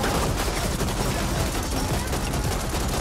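Dense, continuous automatic gunfire from a sci-fi shooter game, rapid volleys blending into a steady loud barrage throughout, with a faint voice underneath.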